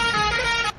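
A loud, steady bus horn in a bus simulator video game blares for under a second and cuts off abruptly, with a faint low rumble beneath.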